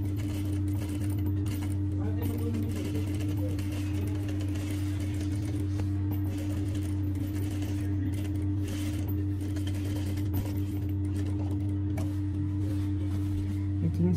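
Sewing machine stitching an Arabic kandurah dress, a steady low humming drone with light mechanical rattle running continuously and close throughout.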